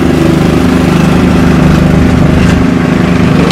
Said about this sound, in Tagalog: So we can use the lawn mower.